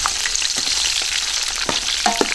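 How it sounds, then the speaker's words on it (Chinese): Hotpot base stir-fried in plenty of oil with dried chilies, Sichuan pepper, ginger and scallion gives a steady, close crackling sizzle, with a few sharper spatters and scrapes of stirring. "我们先把火锅料、干辣椒、花椒跟着那个姜葱炒一下"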